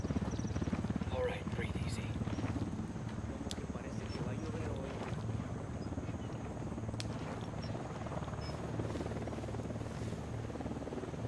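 A helicopter flies overhead in a PS4 tactical shooter video game. Its rotor makes a steady, low, broad drone that runs through the whole stretch at moderate volume, with faint background voices.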